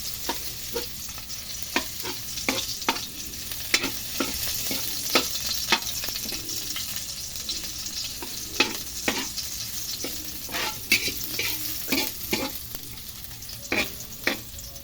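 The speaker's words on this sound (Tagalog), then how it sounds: "Bawang lang ihahalo natin mga Kahabi." Garlic being stirred into laing with meat in a frying pan, a spoon scraping in repeated short strokes over a steady close sizzle, with no talking.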